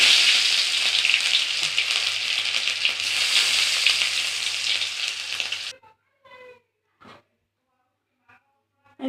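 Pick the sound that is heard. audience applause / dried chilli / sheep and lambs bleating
dried chilli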